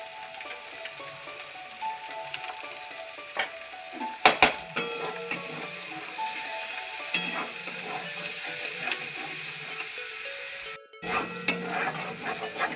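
Green chili paste, ground on a stone slab, sautés in a pan for a vegetarian potato curry with asafoetida. A soft continuous sizzle runs under several sharp spatula knocks and scrapes against the pan, close and moderately loud, with no talking.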